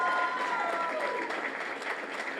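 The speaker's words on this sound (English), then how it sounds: "Please, let's give them a big round of applause." Steady, dense applause from a crowd at a spring nurse practitioner graduation ceremony honoring the instructors, loud and sustained throughout, tapering slightly toward the end, with a few voices mixed in.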